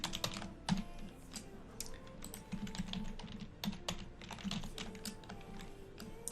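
Rapid, uneven clicking of keys on a computer keyboard as a password is typed for a new Active Directory user account, close and clear, with short pauses between bursts.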